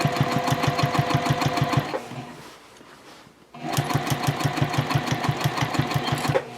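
A sewing machine top stitches through bulky backpack fabric at a long stitch length, a close rapid rhythmic chatter that pauses briefly, then resumes at the same steady pace.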